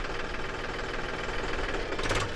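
A tractor engine runs loud and close with a steady rough knocking throb, then lurches with a brief rise in clatter near the end as the clutch is suddenly released.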